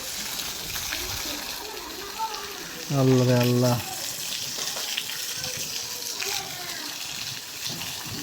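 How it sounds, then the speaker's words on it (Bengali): Rainwater pours and flows from a windy rainstorm that has left the ground flooded, a continuous splashing rush that runs throughout while a man briefly calls out over it. "সাথে দেখেন পানি ভরে গেছে, পড়তেছে খালি।"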